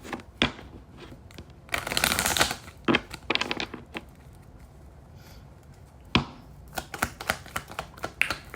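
Cards riffle and flutter in quick bursts, with a longer shuffle early on and rapid snapping clicks near the end, close and fairly loud.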